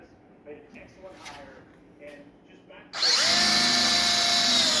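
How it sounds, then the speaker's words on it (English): Quiet voices give way to a loud power drill drilling holes to mount Minn Kota Talon tilt brackets on a Lund Pro V bass boat; it starts suddenly and whines steadily at high speed, close by. "Now we're going to drill them out."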